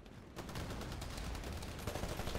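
Shotgun blasts and other weapon fire from the Titanfall video game during an Attrition match on the Colony map, a dense, loud, continuous barrage of shots with no talk over it.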